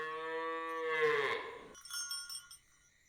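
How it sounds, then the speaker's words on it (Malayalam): A cow lets out one long, loud, close moo that rises and then breaks off, followed by the clinking of a cowbell and bell-like chimes. "പശുവിനെ ഇതുവരെ തൊഴുത്തിലാക്കിയില്ലേ?"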